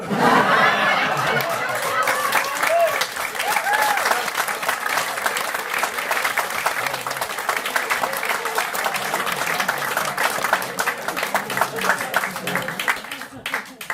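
A comedy audience claps loudly and laughs throughout, with sustained, close applause and scattered chatter and cheers at a live gig.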